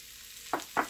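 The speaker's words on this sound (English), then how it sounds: "So I'm going to add the onions" Onions hitting a pan of butter over medium-high heat, with a faint background sizzle and two short, louder bursts of sizzling and stirring near the end.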